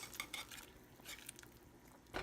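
Egg being scrambled in a pan for ramen noodles, with close, irregular scraping and clinking of a utensil against the pan in short bursts, no talking.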